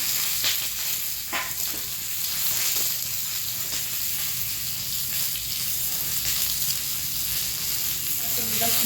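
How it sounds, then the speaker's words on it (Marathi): Onion frying in hot oil, a continuous close, fairly loud sizzle with small crackles and a few stirring scrapes, no speech over it. "तेल टाकतोय आपण कांदा भाजायला थोडस"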